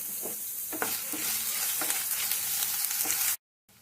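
Seeds pop and splutter steadily in hot oil, a dense crackling sizzle with sharper pops scattered throughout, close up, then an abrupt cut to silence.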